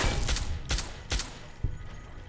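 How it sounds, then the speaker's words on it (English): Pistol fire in the video game Fallout, a handful of sharp shots spaced about half a second apart over a low rumbling game backdrop, moderately loud and close. "it's hard to hit them from far away with the pistol"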